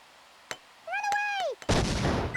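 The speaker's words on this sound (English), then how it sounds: "hopefully a grenade" A grenade goes off in the Worms 2 video game. A few sharp clicks and a bending whistle-like tone come first, then a loud, noisy blast that rumbles on to the end.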